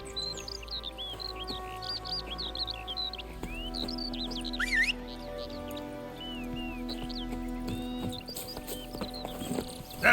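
Geralt's horse Roach in The Witcher 3 moves along with steady, soft hoof clip-clops, quiet and fairly near, under constant birdsong and chirping from the surrounding countryside.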